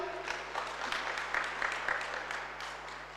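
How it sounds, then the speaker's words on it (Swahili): First-year students at a Kisii University orientation session applaud: a steady, moderately distant wash of many clapping hands that runs unbroken for a few seconds over a low hum. "tuwapatie makofi ya nguvu for that session"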